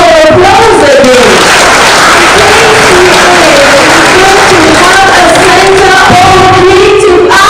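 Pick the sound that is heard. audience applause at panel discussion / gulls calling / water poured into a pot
audience applause at panel discussion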